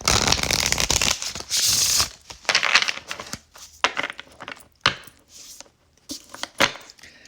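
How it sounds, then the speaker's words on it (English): A deck of reading cards is shuffled, giving bursts of crisp riffling and flapping with short pauses between them, close and fairly loud. "I'm going to shuffle it again."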